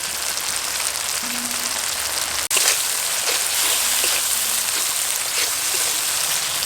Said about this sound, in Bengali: এবার মশলাটাকে কিছুক্ষণ খুব ভালোভাবে কষিয়ে নেব।